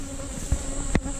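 Angry bees buzzing in a dense, steady drone around fallen hives, close up, with a couple of brief bumps or knocks.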